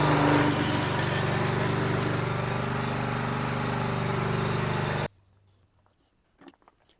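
A restored lawn mower's small engine runs loudly and steadily for about five seconds, then cuts off abruptly, leaving near silence with a faint knock.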